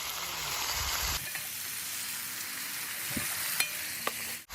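Fish sauce splashed over fried cabbage in a pan on high heat sizzles and hisses steadily nearby, with an abrupt shift in tone early on and a few sharp utensil ticks.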